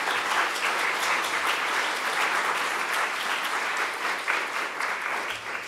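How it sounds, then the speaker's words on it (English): A conference audience at the Hidden Wounds of War Conference gives sustained, dense applause, steady and fairly loud from start to finish with no voices over it. "Please give them a round of applause."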